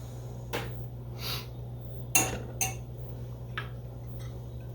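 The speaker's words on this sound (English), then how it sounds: "Just gonna put a little on this bowl to sample." Spoonfuls of homemade Spanish rice served into a bowl with a utensil, heard as several soft, brief scraping and tapping sounds spaced about a second apart, close by and quiet over a steady low hum.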